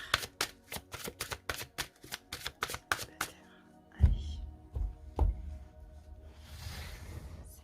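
Oracle cards shuffled by hand in quick rhythmic riffles, a dozen crisp slaps at first, then a few soft thumps as the deck is set down, close and quiet, with faint talk near the end.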